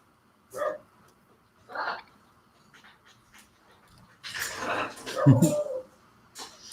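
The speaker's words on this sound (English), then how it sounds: "My dog is outside and he's decided to bark." A dog outside barks in scattered, muffled bursts: two single barks early on, then a louder, longer cluster of barks near the end.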